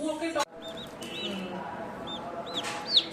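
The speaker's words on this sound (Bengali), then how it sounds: "দেখো কি সুন্দর মুরগির বাচ্চা" Young chicken chicks peep in a series of short, high, rising chirps, with a louder cluster near the end, over low background murmur and room noise.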